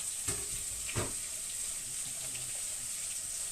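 Onion sizzling in a pan while Ukrainian plov is cooked, a quiet steady hiss with a couple of brief sharper clicks or stirring knocks early on.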